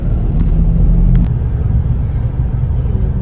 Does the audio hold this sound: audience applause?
no